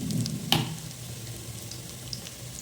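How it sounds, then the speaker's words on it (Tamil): Hot oil for frying fish sizzles quietly in a pan, a soft, steady crackle with one sharper pop early on and faint scattered spits after, heard up close and alone. "ஸோ இதில் மீன் பொரிக்க போகிறேன், எண்ணெய் ஊற்றியாச்சு."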